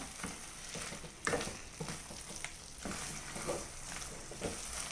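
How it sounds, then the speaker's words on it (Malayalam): Cooked tapioca mixture being stirred and mashed in a pot for kappa chicken biryani gives soft, repeated scraping and squelching strokes, faint and close, with a light sizzle underneath. "നല്ലതുപോലെ ഇളക്കി യോജിപ്പിച്ചെടുക്കാം."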